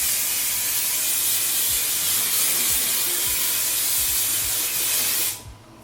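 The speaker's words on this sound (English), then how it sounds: "That's when the even spray is gonna come into play." A steady, loud hiss of aerosol spray sustained for about five seconds, then cutting off abruptly, with faint low thumps underneath.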